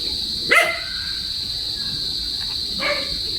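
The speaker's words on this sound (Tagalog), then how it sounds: "Kasi mayroong aso doon" A single dog bark rings out at a distance, followed a couple of seconds later by another faint bark, over a steady high insect drone.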